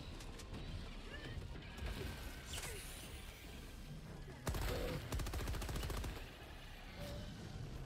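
Rapid bursts of automatic gunfire and sharp impacts in the video game Helldivers 2, a dense, busy battle mix that intensifies in the second half, with faint voices underneath.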